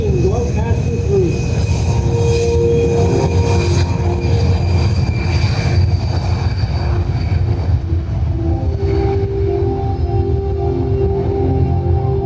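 A C-17 Globemaster III heavy military transport takes off at the Dover airshow, a loud, continuous jet engine roar that stays heavy and steady throughout, with a faint announcer voice running underneath.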